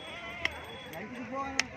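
A sheep bleats faintly amid background chatter at a livestock market, with a couple of sharp clicks punctuating the murmur.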